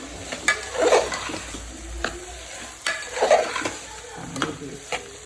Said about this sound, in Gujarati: હવે આ ઘઉંના ફાડા છે, એને તેલથી થોડા મોઈ લીધા છે, એ નાખી દઈશું.